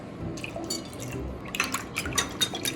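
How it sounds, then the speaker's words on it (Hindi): Regular milk pours into a frittata mixture in a bowl, a soft liquid trickle followed by a run of light drips and splashes, close and alone. "साथ ही इसमें जा रहा है 1/3 कप मिल्क, रेगुलर मिल्क।"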